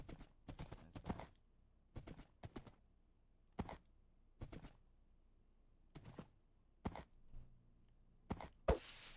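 Horse hooves in a Minecraft survival game clip-clop in short, irregular bursts of sharp clicks separated by quiet gaps, fairly faint, with a brief noisy burst at the very end.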